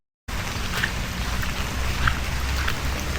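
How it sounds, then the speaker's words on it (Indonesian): Light drizzle falls steadily outdoors at an abandoned replica historic building, a soft continuous hiss of rain that starts abruptly and holds even, with faint scattered drops and no talk. "ini masih agak-agak gerimis"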